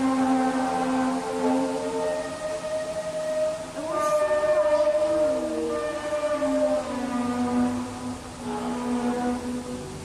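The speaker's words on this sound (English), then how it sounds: "One of the more popular trumpet sounds videos is from Terrace," Mysterious trumpet-like sounds in the sky over Terrace, Canada: loud, sustained, droning brassy tones with slowly bending, wavering pitches, like distant horns or groaning metal, continuing throughout over a steady background hiss.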